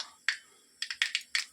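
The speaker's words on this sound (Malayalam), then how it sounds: "കടുക് പൊട്ടി," Mustard seeds pop in hot oil in a pan, sharp crackling bursts arriving in an irregular cluster of about six close, fairly quiet snaps with short silences between.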